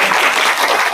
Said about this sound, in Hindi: एक बार मैडम के लिए ताली बजा दो